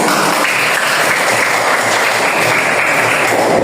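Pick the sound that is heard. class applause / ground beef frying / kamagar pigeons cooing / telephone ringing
class applause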